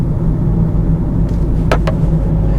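An 88-horsepower Citroen Berlingo engine revs under acceleration, a steady loud low rumble running throughout with a couple of brief higher transients near the end.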